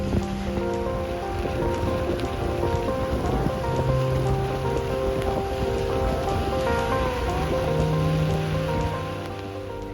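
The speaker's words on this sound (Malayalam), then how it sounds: "മഴയുടെ ശക്തി കൂടിയും കുറഞ്ഞുകൊണ്ടൊക്കെ ഇരിക്കുകയാണ്" Heavy rain in Cherrapunji drums steadily and loudly on a surface, a dense continuous patter with a low hum beneath it.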